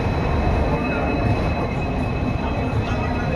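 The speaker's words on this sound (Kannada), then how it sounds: "ಬಾಯಿಸ್ತು ಊಟ ಆಗಿ ಇವಾಗ ಹುಬ್ಳಿ ಬಿಡ್ತಾಯಿದೆ ರೈಲ್ವೆ ಸ್ಟೇಷನ್ನು" A train pulling out of Hubli railway station, heard from on board as a steady rumbling roar with squealing wheels and rattling carriages, continuous and fairly loud.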